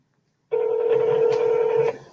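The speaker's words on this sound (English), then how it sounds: "We'll just call her on the phone." A telephone's dialing tone sounds loud and close, holding steady for about a second and a half before cutting off.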